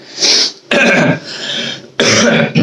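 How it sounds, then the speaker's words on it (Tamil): Three harsh, loud coughs close by, the middle one drawn out and raspy, the others short and sharp. "எனக்கு இருமல் வந்துட்டே இருக்கு"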